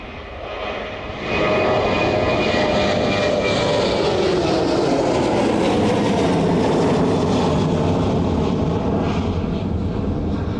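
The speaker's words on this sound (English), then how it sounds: "finally making its way down towards us, and that Ryanair service off to Barcelona this evening" Ryanair airliner jet engines roar steadily at an evening airport, swelling loudly after a quiet first second and holding a broad, sustained rumble with a slowly shifting whine as the aircraft passes close by.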